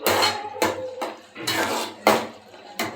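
Masala being stirred into tomato thokku in a pan, with repeated bursts of scraping and clattering from a spoon against the metal, a few seconds apart, close and fairly loud, with no talking.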